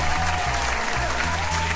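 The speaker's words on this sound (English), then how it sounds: "Well, hand clap to you guys." Hand-clap applause sound effect, steady and continuous at moderate level over a low droning background tone, with no voices.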